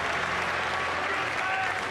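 A crowd at a watch party applauds in a dense, steady burst of clapping that fills the space for the whole stretch, with a voice faintly under it.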